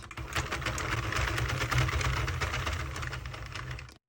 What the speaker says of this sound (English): Put this back on the machine and knit to the end.